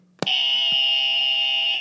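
A red alert alarm sound effect: a sharp click, then a loud, steady, high-pitched electronic alarm tone that holds unbroken for well over a second before easing slightly at the end.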